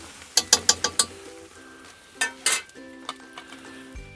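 Meat tipped into carrots frying in a cauldron over a campfire: a quick run of sharp metallic scrapes and clinks, then a burst of loud sizzling, with softer stirring knocks after, close up.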